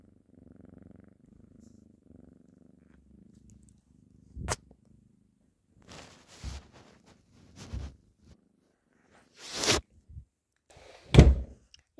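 A black cat purrs softly and rhythmically close by for a few seconds before a series of sharp thumps and rustling handling noises break in.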